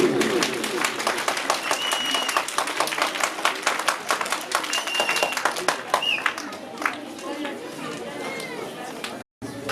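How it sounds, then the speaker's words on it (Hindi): Children of a nursery class at a public school prize-giving are applauded with sharp, uneven clapping that rises and falls, mixed with chatter and voices throughout, briefly cutting out near the end. "तालियां जी छोटे नन्हे मुन्ने बच्चों के लिए।"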